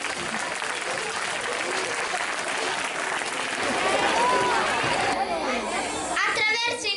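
Steady applause from a crowd at a primary school show honoring its teachers, with children's voices and chatter mixed in and rising toward the end.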